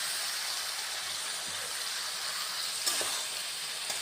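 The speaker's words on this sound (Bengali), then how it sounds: "এখন এভাবে কষিয়ে কষিয়ে রান্না করব।" Chicken frying in a pan with green chilli paste, cumin and ginger paste and tomato paste, a steady close hiss of sizzling with a few faint stirring clicks.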